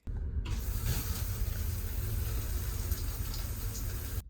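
Shower water running aboard an Amtrak Superliner train, a steady spraying hiss that starts abruptly and continues evenly at moderate loudness, with no voices.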